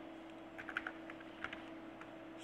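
A computer keyboard is tapped out in short, light keystrokes to enter a taxi number into a Java program, a brief irregular run of clicks close up over a steady low hum.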